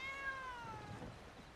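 A cat sleeping in front of a post office gives a single drawn-out, falling meow, close and fairly clear over faint outdoor background noise.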